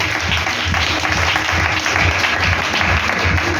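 Church congregation applauding together, a steady, dense wash of clapping that fills the whole stretch at close range, with no speech standing out above it.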